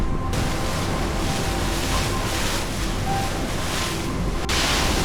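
Racing sailboat at sea during the Mini-Transat 2025 race: loud, constant wind buffeting the microphone over rushing waves and hull wash, with a steady roar and brief surges.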